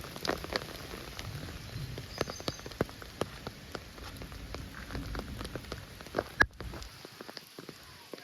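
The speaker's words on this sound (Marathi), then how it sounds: "हा बघा खूप पाऊस" Heavy pre-monsoon rain of a first storm in a Konkan valley, patters and scattered drops striking near surfaces in a continuous faint wash, ending abruptly.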